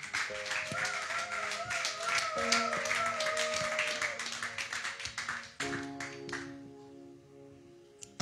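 A church congregation claps in rhythm to acclaim the Lord, quick steady hand claps mixed with sustained music and singing, tapering off near the end.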